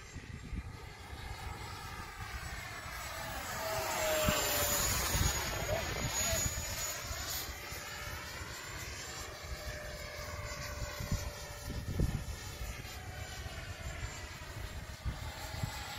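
An RC F-37 jet with a 70 mm electric ducted fan flies past outdoors, a sustained high whine that swells as it passes overhead and then fades, with faint voices in the background.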